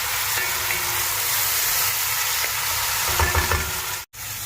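Onions and tomatoes frying and sizzling in a pot, a steady loud hiss with a few stirring scrapes near the end before a brief cut in sound.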